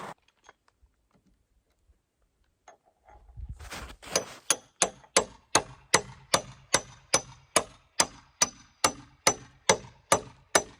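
Hammer nailing 2x2 wood boards into place on a cabin foundation, a steady series of about fifteen sharp, ringing blows at a quick, even rhythm, close and loud, with no talk.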